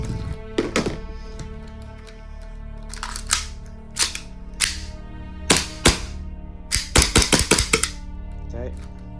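An airsoft 1911 gas pistol fires sharp, close snaps, first singly and spaced apart, then in a quick cluster of several shots toward the end.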